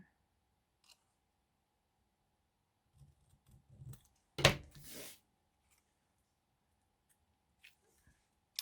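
Scissors cut through paper while a junk journal pocket is made, giving one short, crisp snip set apart from a few faint rustles and taps in an otherwise quiet room.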